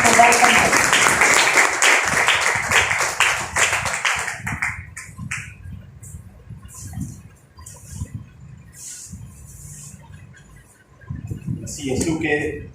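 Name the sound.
church congregation applause welcoming the speaker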